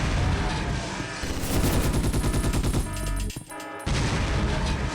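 Grenade blasts and gunfire tear through security robots in the PS2 game Ghost in the Shell SAC, a loud, dense run of rapid booming reports that briefly breaks off and then resumes at full force.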